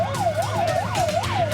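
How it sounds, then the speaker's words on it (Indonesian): An ambulance siren wails at the site of an attack, rising and falling in a steady, quick cycle, loud and close, alone with a low rumble beneath. "Sementara ambulans berdatangan untuk membawa korban ke fasilitas kesehatan terdekat."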